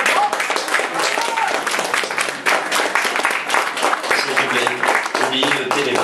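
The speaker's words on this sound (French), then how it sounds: "On les applaudit, bien sûr." Applause at a French short film festival closing ceremony, dense sustained clapping from an audience that fills the room steadily for several seconds with no pauses.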